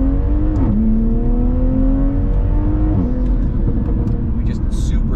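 A Toyota Supra MK5 with a tuned xHP automatic transmission accelerates under load, the engine tone climbing steadily and dropping sharply at two quick gear shifts, loud and close inside the car, with a voice speaking over it.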